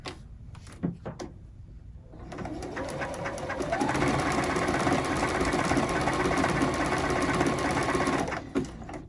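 A sewing machine stitches a quilt binding. A few scattered mechanical clicks come first, then the motor settles into a loud, steady, rapid needle rhythm that runs to the end.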